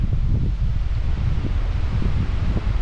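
Steady wind blowing across a lakeside where anglers fish for tench, a continuous low buffeting rumble with gusty microphone noise and no speech.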